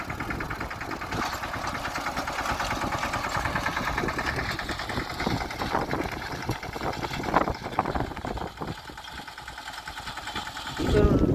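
A tractor engine runs steadily on a farm, a close, continuous mid-pitched rumble with faint knocking that swells louder in the last second.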